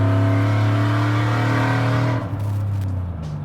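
A cammed, built 6.2-liter Chevy Avalanche pickup on 24-inch wheels accelerates hard at a track, its engine a loud, steady low roar that holds, then briefly drops and recovers around a shift before settling back.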